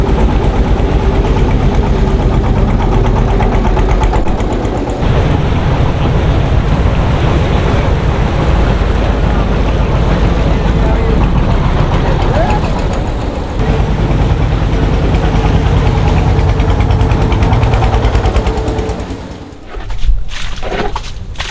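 An engine-powered trawler boat in Bangladesh runs with a loud, steady mid-range engine drone and rapid chugging throb, close and continuous, fading briefly near the end.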